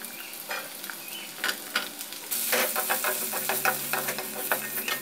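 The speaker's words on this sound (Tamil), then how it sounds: "இப்போ கருவேப்பிலை போடுவோம். பச்சை மிளகாய், இந்த பூண்டையும் போட்டுவோம்." Curry leaves, green chilies and garlic hit hot oil for a fish curry, crackling in a steady sizzle with sharp spitting pops that grow louder and denser midway, close and without talk.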